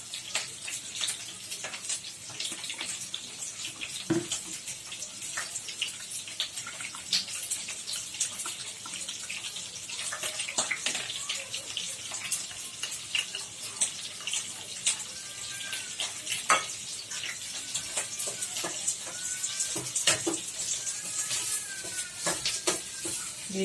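Premixed gravy ingredients for chilli egg hit a hot pan, giving a soft continuous sizzle with intermittent scraping and stirring clicks from a spatula, moderately close and fairly quiet.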